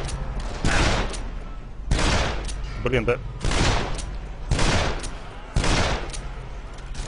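Gunfire in the video game Dead Island comes as five heavy bursts spaced about a second apart, loud and close, with a man's brief spoken remark between them.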